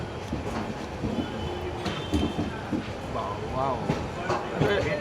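An LHB-coached Ganga Sagar Express pulling into Bandel Junction station gives a steady, loud rolling rumble with faint clanks and squeals, heard from on board with a low murmur of voices.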